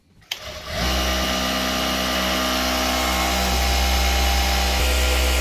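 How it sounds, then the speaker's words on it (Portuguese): A Jack A5E electronic straight-stitch sewing machine speeds up after a brief start and then runs steadily at full speed to wind a bobbin, giving a loud, constant motor whine with a low hum underneath. "vez que a gente for encher a bobina, a gente deixa na velocidade máxima"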